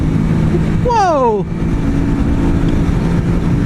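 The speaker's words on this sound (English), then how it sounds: "I'm enjoying this motorcycle very much." A MITT 400 MB motorcycle engine drones steadily while being ridden on the road, a loud, continuous hum with wind rush, briefly overlaid by a rider's short exclamation.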